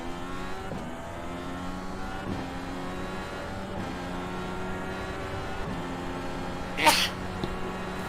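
A single short, sharp sneeze bursts out near the end, over the steady whine of a race car engine in a Monza sim racing session, its gear changes rising and falling.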